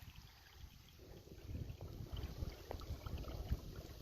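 Water trickling and running through rocks from an old buried drainage along a track, a soft, steady low wash with faint splashy detail, quiet and continuous without voices.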